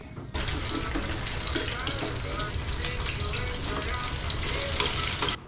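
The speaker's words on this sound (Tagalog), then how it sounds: "sinimula na nga natin dito yung pagprito nating talong" Eggplant slices fry in a pan with a loud, constant sizzle and spatter from start to finish, close by and with no voices over it.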